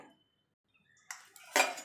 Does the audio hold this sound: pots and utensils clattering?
yes